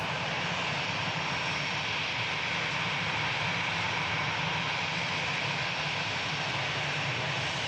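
EasyJet passenger jet at Manchester Airport, its engines a steady, loud broadband roar that holds unbroken throughout with no voices over it.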